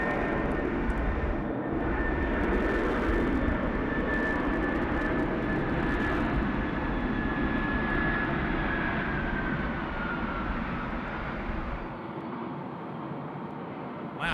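A heavy jet lands at Sydney Airport at night, heard from the eastern side as a loud, sustained engine roar and rumble with a whining tone that slowly fades as it rolls away.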